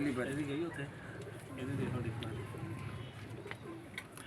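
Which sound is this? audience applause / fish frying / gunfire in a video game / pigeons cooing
pigeons cooing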